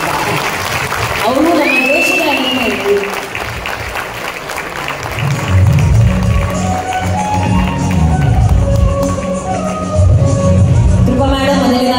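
Audience applause at a Kannada awards ceremony as athletes come on stage, sustained clapping that swells midway and continues steadily beneath a speaker's voice and a microphone.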